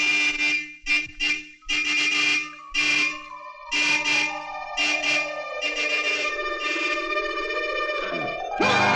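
Several sharp, loud horn honks sound in quick succession from a Malayalam comedy movie scene, followed by a long sustained blare whose pitch slides downward, with no talking.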